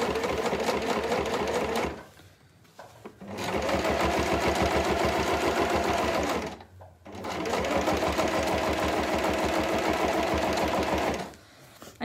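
A sewing machine stitches through layered fabric for a shopping basket, running loud and close in two long steady bursts of rapid mechanical chatter with short pauses between, and no talk.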